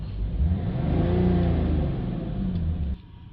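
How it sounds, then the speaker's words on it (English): A BMW 330d diesel engine is revved repeatedly to clear its particulate filter, a loud, close, continuous rising and falling roar that cuts off sharply near the end, leaving a faint idle. "So I'll just continue giving it a few boost revs for a couple of minutes."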